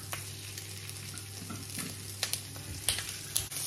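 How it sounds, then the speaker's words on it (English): Chicken thighs and wings browning in fat in a pan give a steady close sizzle and crackle, broken by a few sharper pops and stirring scrapes. "the next thing we're going to do, we're gonna brown those thighs and the wings"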